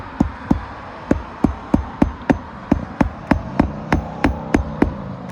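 Steady hammering during a home repair, about fifteen sharp, evenly spaced strikes ringing out close and loud, with no talk over them.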